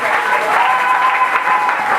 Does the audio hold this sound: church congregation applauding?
yes